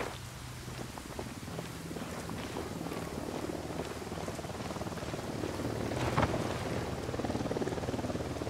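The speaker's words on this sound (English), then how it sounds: "Don't need that chopper." A helicopter in the Ghost Recon Wildlands video game, heard as a continuous low rotor rumble with a windy, whooshing texture that holds steady and swells slightly near the end, with no voices.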